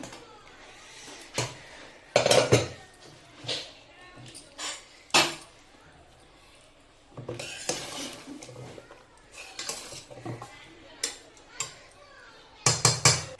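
A pressure cooker of mutton kheema is opened amid scattered metallic clanks and knocks of the lid and utensils, loud and close, with speech in between.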